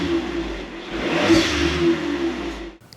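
Stock-exhaust VW Polo Mk5 engine revving up steadily, a loud close droning hum that swells and holds before cutting off abruptly at the end, with no talk over it.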